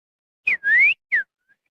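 A clear, close whistle made with something in the mouth: a short tone, a longer rising note, then a brief falling one, with silence around it.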